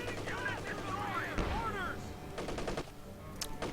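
Heavy machine gun fire from the strategy game Company of Heroes 2 rattles in short rapid bursts toward the end, following a stretch of voice-like in-game chatter and background battle noise.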